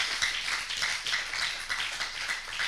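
A church congregation claps continuously and fairly evenly, with a crisp steady patter and no voices on top.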